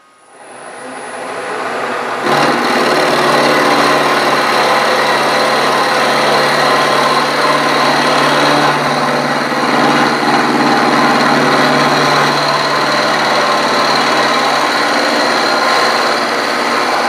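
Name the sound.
milling machine running with table power feed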